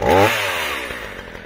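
A chainsaw engine screams loud and close as the throttle is ramped up fast, then its pitch falls away over about a second and a half with no talking.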